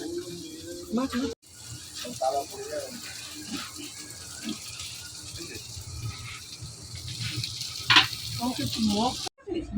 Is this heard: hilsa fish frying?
yes